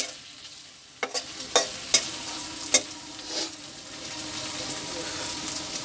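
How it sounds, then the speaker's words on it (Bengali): Onion and chili fry in hot oil with a constant close sizzle, broken by several sharp spatula taps and scrapes early on before settling into a softer hiss. "তো পেঁয়াজ মরিচ গরম হচ্ছে"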